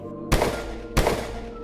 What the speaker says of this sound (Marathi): मी बंदुकीचे दोन बार हवेत काढले